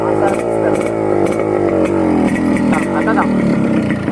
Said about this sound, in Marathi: तर हा आता असा इंजिनचा आवाज.